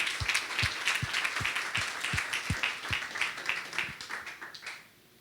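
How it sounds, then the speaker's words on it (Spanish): A church congregation claps together, with a strong rhythmic beat of unison claps over a wash of scattered clapping, moderately distant, tapering off and stopping near the end. "Le damos un aplauso al Señor."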